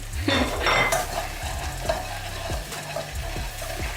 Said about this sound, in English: Tofu scramble, yeah, and just stir that round